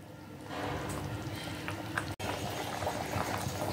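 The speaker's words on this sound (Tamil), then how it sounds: "இங்கே பாருங்கள், நல்லா கொதிச்சிச்சு, எண்ணெய் பிரிஞ்சு வந்துருச்சு பாருங்களேன்." Kara kulambu curry with pea aubergines simmering on a stove, a faint steady bubbling and soft popping that holds evenly throughout, with no voices.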